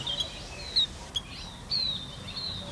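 Small birds chirp in thin, high tweets and short whistled notes, faint and intermittent over a quiet background hiss.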